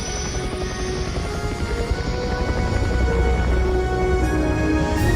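Helicopter lifting off, a steady dense rotor and engine roar that holds loud and continuous with a slight swell toward the end, no voices.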